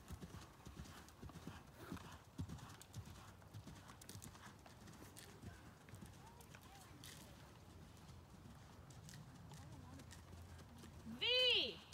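A horse's hooves beat in a soft, rhythmic canter during a dressage test at a show, with a voice calling the movements over them and a brief whinny near the end.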